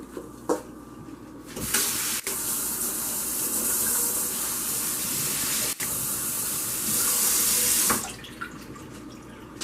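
Running tap water pours steadily into a kitchen sink as peppers are rinsed, a close, continuous hiss and splash that starts and stops abruptly.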